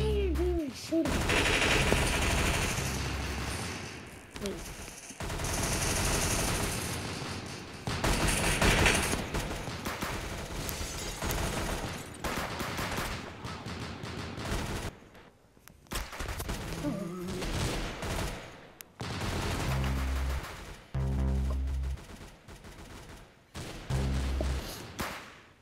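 Rapid bursts of gunfire in the Roblox game, machine-gun-like volleys and sharp shots, come loud and near in repeated stretches broken by short gaps, with some game noise between them.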